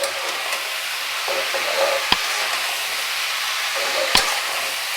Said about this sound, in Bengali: এবার সব কিছু দিয়ে অনেকক্ষণ ধরে কষাতে হবে।